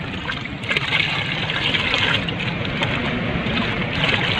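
Liquid fertilizer solution, one liter of triple 14 mixed in water, poured from a dipper onto a potted bougainvillea, a steady close splashing trickle that runs continuously with a few louder splashes.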